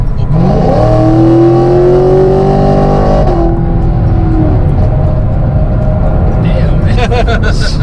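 An E85-fueled 2019 Chevrolet Camaro SS accelerates hard, its exhaust valves opening into a loud rising engine roar that climbs through a gear, dips at a shift and keeps pulling, with a voice heard over the din.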